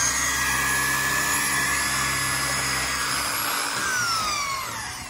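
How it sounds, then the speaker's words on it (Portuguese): A power drill bores into wood with a steady, loud motor whine throughout, its pitch sagging slightly toward the end as the bit works through; no one speaks. "Agora furar a madeira"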